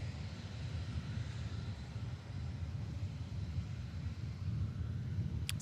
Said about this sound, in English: Emirates Airbus A380 coming in from Dubai.